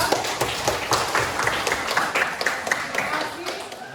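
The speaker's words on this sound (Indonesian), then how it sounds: "kita beri aplaus untuk kelompok 2" Classroom applause for a student group after their presentation, a dense, steady patter of many hands clapping at once, close and lively throughout.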